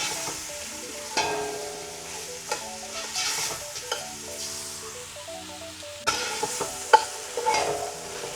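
Tomato and onion sauté with chicken and upo in a hot pan, a continuous sizzle broken by repeated scraping stirs of a spatula, close and clear with no voices.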